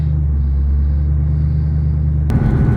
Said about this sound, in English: So I made it into 4th gear driving down the road so far.